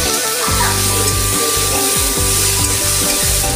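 Diced potatoes with white cumin, salt and turmeric sizzle steadily in hot oil for a vegetarian samosa filling, a close, continuous frying hiss with occasional stirring scrapes, while a tonal melody plays underneath throughout.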